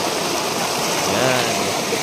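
Water in a forest stream flows with a steady, full rushing wash that continues without a break, close by and fairly loud.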